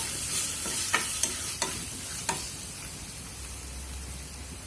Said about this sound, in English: and add ginger garlic paste as well. Stir them well.